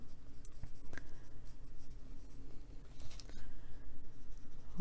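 Colored pencil scratching across paper while coloring, a close, steady dry scraping with short strokes and a few louder taps, no talking.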